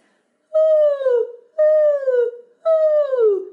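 A high, wavering voice sings three long descending hoots, each about a second, imitating an owl, with short pauses between them.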